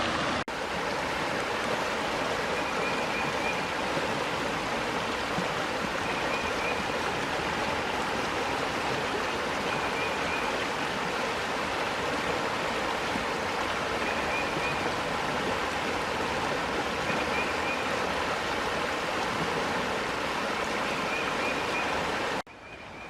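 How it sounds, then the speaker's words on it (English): Steady rushing roar of river rapids in St. Joseph Park, Saint Joseph, Tennessee, a continuous broadband wash of moving water with no talk. "We're getting into some more rapids here."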